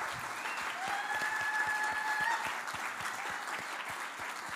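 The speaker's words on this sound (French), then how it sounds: "On vous applaudit." A church congregation applauds steadily for several seconds, a dense patter of many hands filling the space at moderate distance, with faint voices mixed in beneath the clapping.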